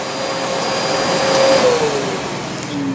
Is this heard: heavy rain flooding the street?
no